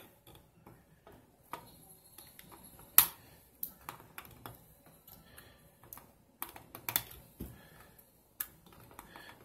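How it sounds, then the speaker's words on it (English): A cutting tool snips component leads off a circuit board during repair of a Sanyo EZV 20 monitor, producing sharp isolated clicks at irregular intervals over near silence, some louder than others. "I'm going to cut all these leads off."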